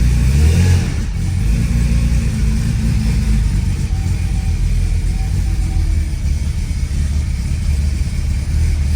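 A 1987 Porsche 930 Turbo's engine idles with a loud, steady rumble, and a short rise in revs early on settles back to a smooth, even idle. Close and continuous, with no voices.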